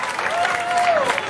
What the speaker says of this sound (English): Give him a nice big round of applause, Kachunga and the alligator